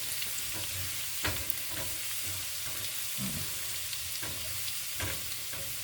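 Minced garlic frying in a pan for adobong sitaw with spareribs, a constant close sizzle with occasional scrapes and taps of a utensil stirring, steady and unbroken, no voices.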